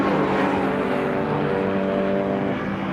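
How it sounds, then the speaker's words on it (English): Race cars in qualifying at Brands Hatch, including a Renault 5 Turbo passing a BMW, roar by in a steady, loud engine drone with layered tones, heard from a distance across the circuit. "There's that glorious Renault 5 Turbo as well, flying past the BMW down there"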